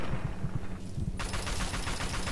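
Gunfire in the video game Fallout 3 comes as a rapid burst of shots, first a string of low thuds and then a bright rattling volley, loud and close, with no voices over it.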